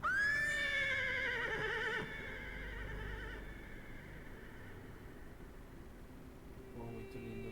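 Horse neighing in the video game Metal Gear Solid Delta: Snake Eater, a loud, close whinny with a shrill wavering pitch that fades into a long, quieter tail over a low background hum.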